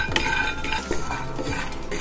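Peanuts dry-roasting in a pan, stirred briskly with a metal spoon that scrapes and rattles the nuts against the pan in quick, close, repeated strokes.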